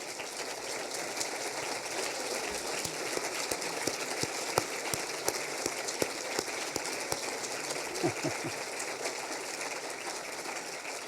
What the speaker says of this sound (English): So Big Botany artists, please stand for a round of applause, all of you.